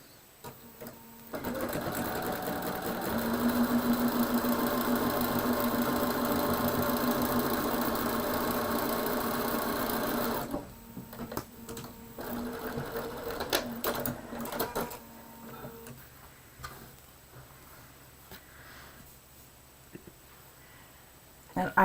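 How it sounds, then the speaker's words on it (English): A sewing machine stitches quilt fabric in one long, steady whirring run, close and even, dropping off partway through to a quieter stop-start hum and faint handling noise. "So I'm simply going to put that across, And we'll sew that up."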